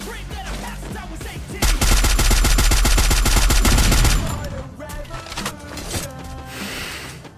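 Rapid automatic gunfire in the Free Fire mobile game, a dense loud burst lasting a couple of seconds followed by scattered single shots, under someone talking.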